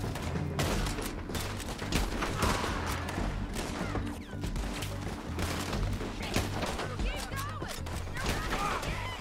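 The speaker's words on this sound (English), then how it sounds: "let's use the bolt action rifle." Bolt-action rifle shots and surrounding gunfire in the Red Dead Redemption II game, a dense battle of sharp cracks and booms repeating throughout, loud and close over a rumbling background, with someone talking at times.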